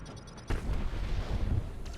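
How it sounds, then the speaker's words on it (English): Mines are blown up in the video game Starlink: Battle for Atlas: a sudden heavy boom followed by a rumbling, crackling explosion that keeps roaring, with another burst near the end. "Mostly destroying just various mines."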